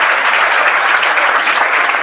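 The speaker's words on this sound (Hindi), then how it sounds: "एक बार सब लोग ताली बजा दो अच्छे से।" Students clap together in a classroom at a free residential coaching centre, a dense, loud burst of applause that stays steady and close throughout.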